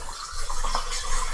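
Tap water runs steadily over Baby Bella mushrooms at a sink, a broad, even hiss of flowing water close by with slight splashy fluctuations and no voices.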